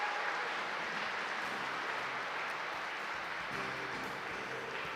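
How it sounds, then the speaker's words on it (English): A large crowd at a Black Desert FESTA fan event applauds, a steady, distant wash of clapping that holds at an even level throughout without any standout claps. "give them all a round of applause."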